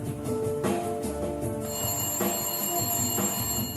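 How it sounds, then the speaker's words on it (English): A telephone rings steadily at moderate volume over a busy, noisy room with background chatter, its repeated bursts blending with a constant hum. "That would be the phone"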